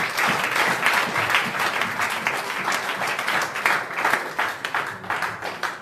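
A church congregation bursts into sustained, energetic applause, dense clapping filling the space at steady loudness for several seconds, with a few voices faintly mixed in.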